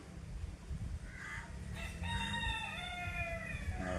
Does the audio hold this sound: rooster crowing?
yes